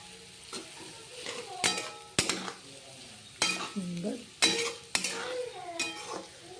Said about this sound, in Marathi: आपण टाकणार आहोत कोबी परतून घेऊया